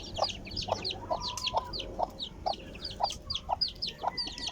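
Young pet chicks peep in rapid, high, evenly spaced chirps during feeding, with lower clucking fowl sounds mixed in close by and no talking.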